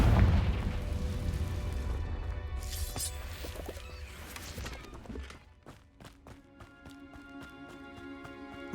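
Confringo fire spell blasts in the Hogwarts Legacy video game, a deep booming burst at the start fading into rumble, followed by a run of sharp, rhythmic impacts and thuds.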